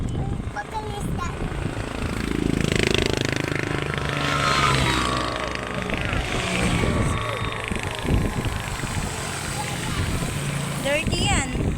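A fishing boat engine runs steadily at close range, a continuous loud mechanical drone with several people talking over it throughout.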